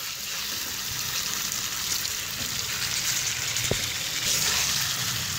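Chicken karahi sizzles in a pan while being stirred, a continuous close frying hiss with a sharp scrape near the middle, and no talking.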